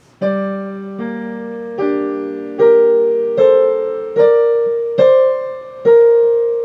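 Piano playing a measure with both hands, eight clear struck notes or chords at a steady, slightly uneven pace, each ringing and decaying before the next, close and alone with no talk.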